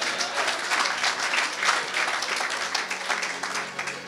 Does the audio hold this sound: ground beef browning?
no